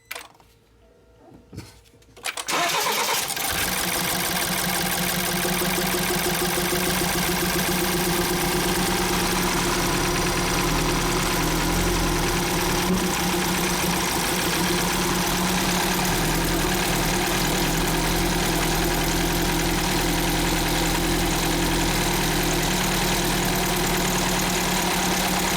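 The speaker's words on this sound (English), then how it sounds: "Crank it. It's doing it by itself." A BMW X3 that cranks but won't start is cranked, catches after a brief quiet start, and settles into a loud, steady idle with a rough, knocking rumble that runs unbroken for over twenty seconds.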